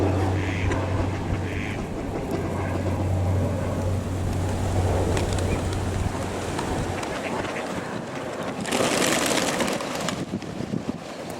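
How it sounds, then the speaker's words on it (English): Large geese at a park give a few nasal honks early on, over a steady low hum and ambient outdoor noise, followed later by a brighter noisy burst. "All that left are the big geese."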